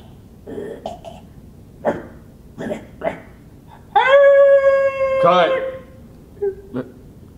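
A voice imitates a deformed dog howling, a long drawn-out wail with a strained second burst, set between short spoken lines and a cough.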